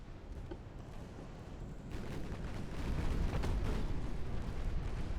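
Torpedo hits and explosions rock a warship in the Ultimate Admiral: Dreadnoughts naval battle, a dense continuous rumble of blasts that swells louder midway and stays heavy to the end, with no talking.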